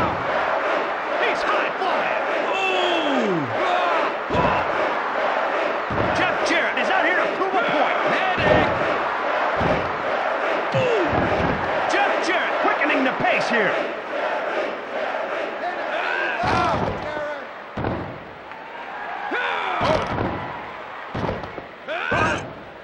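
A roaring arena crowd fills a wrestling match in the PS1 game WWF Attitude. The cheering is loud and continuous, broken by sharp slams and impacts, with voices talking over it throughout.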